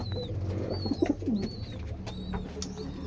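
Pigeons coo softly at close range, a few low throaty calls rising from a steady bed of background noise, with thin higher chirps drifting in now and then.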